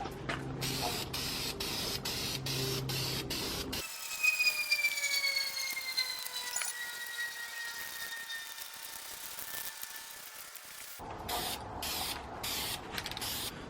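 Spray paint hissing onto a Saab air intake part being coated black: bursts of short sprays, then a long steady hiss, then more short rapid bursts, close and loud.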